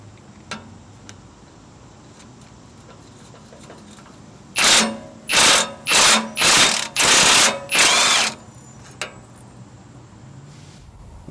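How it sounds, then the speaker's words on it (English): Ratchet with a 13mm socket removing an exhaust manifold bolt on a 2004-2012 Mitsubishi Galant 2.4L, heard as six close, rapid clicking bursts in quick succession, with quiet pauses before and after. "you'll need to remove this bolt with a 13mm socket"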